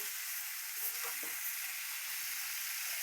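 Masala frying for a Marathi-style brinjal curry, a steady soft sizzle in a pan with a few faint stirring scrapes, continuous and close, with no voices.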